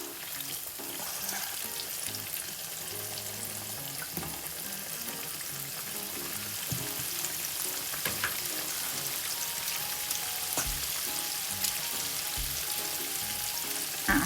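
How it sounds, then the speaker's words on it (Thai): Pork skin being deep-fried for glass pork crackling fizzes and sizzles steadily in hot oil over medium-high heat, with scattered pops and crackles throughout. "เดี๋ยวแม่จะมาแบ่งทอด สักประมาณสองถึงสามรอบ เนาะ"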